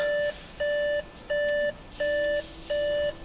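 An Audi A6 C7 warning tone beeps five times in an even rhythm, each beep a clear steady pitch with short pauses between, loud and alone; the car has a coolant leak.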